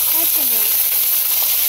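Hot oil sizzling and spitting in a pan while goat meat cooks, a continuous bright hiss with a few short rising whistle-like tones near the start, close and steady.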